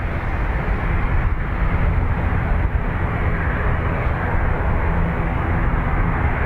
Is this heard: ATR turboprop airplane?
yes